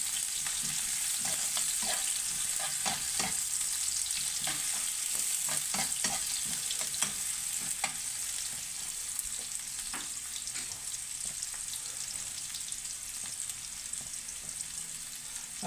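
Onions frying in a pan toward golden brown give a steady close sizzle with scattered crackles and pops throughout, no voices over it.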